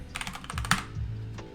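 Quick, light clicks of a computer keyboard as a short word is typed, a brief burst of about a dozen keystrokes close by, with no speech.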